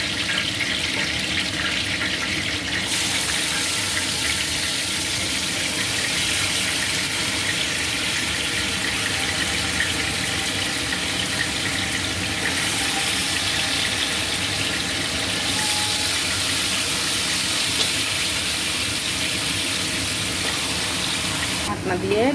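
Chicken sizzles in a pan with cinnamon, cardamom and bay leaf for a home-style chicken kacchi, giving a steady, even hiss of frying that runs the whole time beneath a speaking voice.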